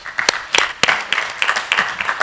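An audience at a scientific conference session claps after a presentation, giving a short burst of scattered, moderately loud claps that fade out within a couple of seconds.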